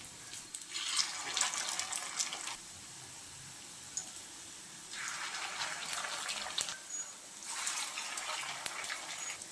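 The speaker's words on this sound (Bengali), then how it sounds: "একে একে সব পকোড়াগুলো আমি দিয়ে দিচ্ছি" Instant noodle pakoras frying in hot oil at medium-low heat, giving bursts of steady sizzling hiss that swell and fade in three waves, with no talking.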